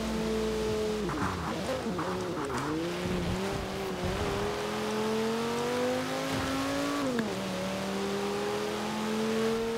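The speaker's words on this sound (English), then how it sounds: "Nice five-cylinder sound. It's quite fast for a five-cylinder" A 2009 Audi RS 6 five-cylinder engine in Forza Horizon 4 revs loudly and continuously, its pitch climbing, dipping and climbing again through gear changes with faint tire noise underneath.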